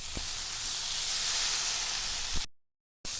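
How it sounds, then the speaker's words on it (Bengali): Soybean chunks and potato fry in a pan for a soybean curry, giving a steady moderate hiss with two faint clinks. The sound cuts out briefly near the end and then comes back. "এখন আমি সয়াবিন আর আলুটাকে দিয়ে দেব।"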